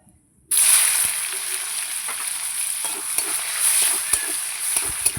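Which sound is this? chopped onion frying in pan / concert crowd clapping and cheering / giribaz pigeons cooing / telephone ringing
chopped onion frying in pan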